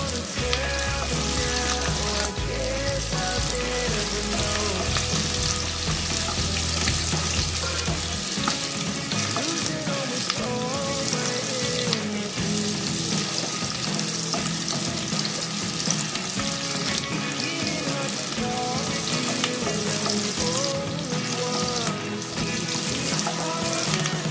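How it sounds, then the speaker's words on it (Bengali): Small onions fry in hot oil in a pan with a loud, dense, continuous sizzle and crackle, joined by a low steady hum early on and occasional stirring scrapes. "তো এবার আমি এর মধ্যে পেঁয়াজ দিয়ে দেবো"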